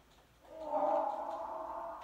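A donkey in Minecraft lets out a single drawn-out, moaning bray that swells and holds for over a second, close and fairly loud, with no talk.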